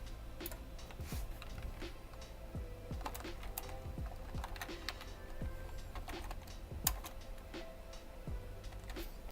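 Steady typing on a computer keyboard while programming an Arduino with an e-paper display. Soft, close key taps come in an uneven run over a constant low background hum, with no voice.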